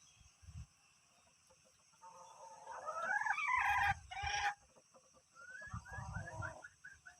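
A junglefowl rooster crows in short harmonic bursts twice, a longer call then a second one, moderately close, over quiet outdoor ambience with low thumps and rain.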